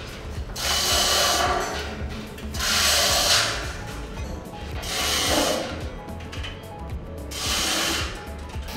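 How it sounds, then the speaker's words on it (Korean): Anchors and bolts being driven into steel H-beam columns during structural reinforcement of a café building site, heard as four loud, steady bursts of rattling power-tool noise in close succession. "이후 앙카와 볼트를 박아주고 기둥이 될 H빔을 바로 작업해줍니다"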